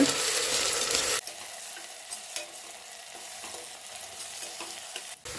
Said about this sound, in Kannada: ಇವಾಗ ಇದಕ್ಕೆ ಜಿಂಜರ್ ಗಾರ್ಲಿಕ್ ಪೇಸ್ಟ್ನ ಸೇರಿಸ್ತಾ ಇದ್ದೀನಿ. ಸೇರಿಸ್ಬಿಟ್ಟು ಒಂದ್ಸಲ ಮಿಕ್ಸ್ ಮಾಡ್ಕೊಳ್ಳೋಣ.